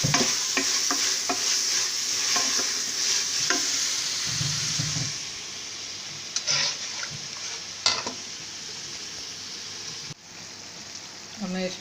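Black-eyed beans fry in a pan for kala chana biryani, a close, steady crackling sizzle under repeated stirring scrapes and clinks, the frying continuing without pause while the spoon works intermittently.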